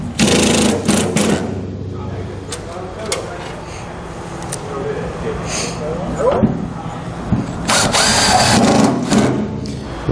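A power drill drives self-tapping screws into a trailer fender to mount an LED fender light, with loud whirring bursts that start and stop, plus clicks and handling noises; someone talks between the drilling.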